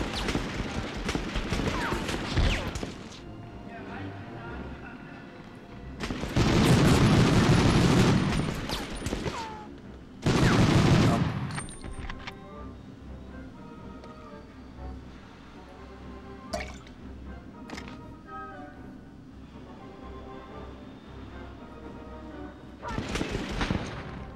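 Gunfire in the PS1 game Medal of Honor comes as bursts of rapid shots and loud blasts, with louder volleys around the middle and scattered single shots and faint game sounds between them.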